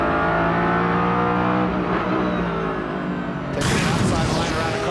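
Onboard a Grand Am race car braking into a corner, the engine roaring loud and close with harmonic tones shifting as revs drop, then a burst of harsh broadband noise as the back end steps out.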